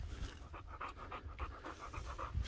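A dog panting during obedience training outdoors: quick, rhythmic breathy pants repeat steadily, close but soft, over a low rumbling background with no talking.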